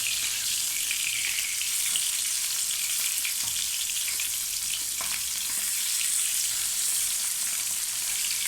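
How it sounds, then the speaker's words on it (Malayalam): Fish frying on a stove, a continuous bright hiss of hot oil with a couple of faint clinks, steady and moderately loud throughout. "അത് അടുപ്പിലേക്ക് തന്നെ മീൻ ഫ്രൈ ചെയ്യാനായിട്ട് ഇട്ട് കൊടുത്തിട്ടുണ്ട്"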